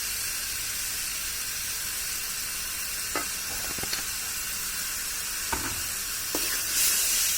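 Mango pickle bubbles and sizzles softly in a pan while a spatula stirs it, a steady hiss broken by a few sharp scrapes and taps, close and without voices.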